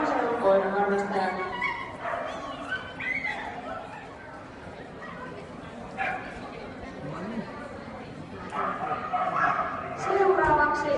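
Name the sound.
Border Collie barking during dog agility run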